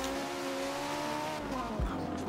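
Drift car in the Forza Motorsport video game, engine held at a steady high drone with layered harmonics and a tire squeal, a brief lower rumble near the end.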